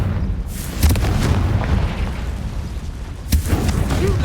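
Confringo blasting spell going off in the Hogwarts Legacy video game, a deep rumbling boom with two sharper blast hits, one near the start and one near the end, amid a dense ongoing battle din.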